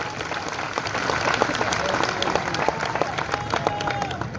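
Dense crowd applause at a public ceremony in India celebrating local development projects, a steady wash of many hands clapping at moderate loudness for the full stretch, with faint voices mixed in.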